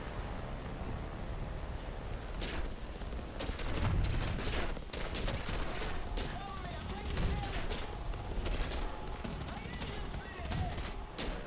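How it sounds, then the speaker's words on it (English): War Thunder tank battle with a Panther's cannon and rapid gunfire, repeated bursts and heavy booms crackling through a dense, noisy combat mix, with a voice talking over it. "I probably should have avoided the Panther's gunfire"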